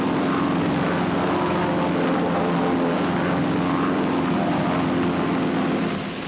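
Propeller airplanes fly in formation, giving a steady, loud engine drone that holds evenly throughout and eases off slightly at the end, with no talking.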